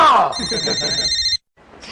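A telephone bell rings in a steady, close trill for about a second, over a voice speaking at the start, then cuts off abruptly into brief quiet before faint sound returns.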